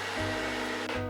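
Electric mixer running at top speed while beating soft butter in a bowl for a chocolate cocoa cream, a steady loud motor whir with a brief dip and restart partway through.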